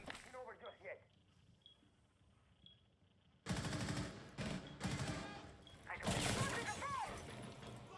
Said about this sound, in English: Nuggo's caught in the gunfight.